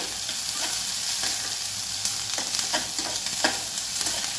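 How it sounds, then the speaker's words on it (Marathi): Capsicum is stir-fried in a hot pan with a dense, continuous sizzle and a few soft stirring scrapes near the end, heard close up with no voices. "शिमला मिरची आहे तर ती घालून घ्यायची आहे छान मिक्स करायचं आहे"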